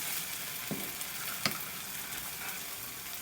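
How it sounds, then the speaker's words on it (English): An egg veggie sandwich fries in a hot pan after being flipped, giving a steady close sizzle with a couple of brief scrapes or presses, no voices. "Then I'll flip it over and cook this other side as well."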